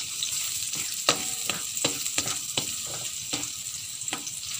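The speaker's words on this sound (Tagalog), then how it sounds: "lumalabas na yung aroma ng ating ginigisang sibuyas, bawang at luya" Onion, garlic and ginger sauté in a hot pan with a steady sizzle and crackle, punctuated by several sharp clacks of a spatula stirring against the pan, close and without talk.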